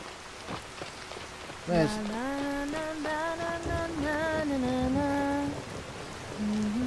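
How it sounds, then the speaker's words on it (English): Steady rain patters across the ground in the video game Skyrim, as a constant hiss that runs through the whole stretch. A person speaks over it. "And it is raining."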